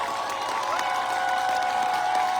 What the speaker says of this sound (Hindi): जोरदार जोशीली तालियां।